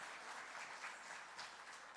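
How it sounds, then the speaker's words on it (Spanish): An audience gives a round of congratulatory applause at a school presentation on teaching with technology, a steady, fairly faint wash of clapping throughout. "quiero pedirles por favor un aplauso de felicitación"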